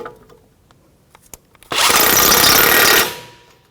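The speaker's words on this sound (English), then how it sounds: "We're going to tighten up our strut mounting bolts. I'm going to put the 21mm on the nut." A power tool, likely an impact wrench with a 21mm socket, runs in one steady loud burst of about a second and a half, snugging strut mounting bolts into a new knuckle on a 2007-2017 Jeep Patriot 2.4L, after a few faint clicks.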